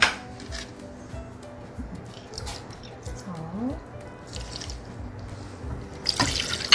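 Prepared water is poured into a pot for Andong-style braised chicken, a splashing, gurgling pour with light clinks of cookware, heard close while someone talks over it.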